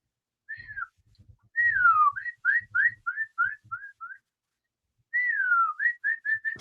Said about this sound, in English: And you can hear the birds chirp going.